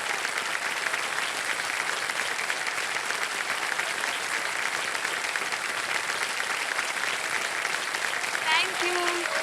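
A quiz show studio audience applauds loudly and steadily, a dense, even wash of clapping that fills the room from start to end.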